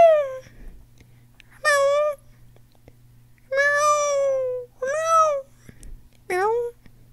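A voice imitates a cat, giving four drawn-out meows spaced apart, with quiet pauses and a faint low hum between them.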